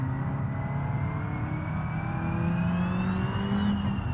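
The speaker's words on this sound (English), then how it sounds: "I just love the turbo sound in this car." Turbocharged car engine in BeamNG.drive, a steady loud drone with a rising whistling whine climbing in pitch as the car accelerates, close and continuous with no talking.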